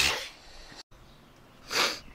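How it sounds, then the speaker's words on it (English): A person sneezes twice, two sharp bursts close to the microphone separated by a brief pause, with no talk. "I just sneezed all over the camera."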